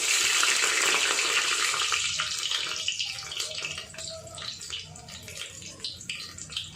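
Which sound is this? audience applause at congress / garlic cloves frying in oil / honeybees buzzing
garlic cloves frying in oil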